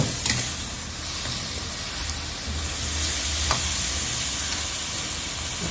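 Yellow noodles stir-fried with soy sauce and oyster sauce sizzle steadily and loudly up close, with a constant hiss and occasional clinks of stirring, and no voices.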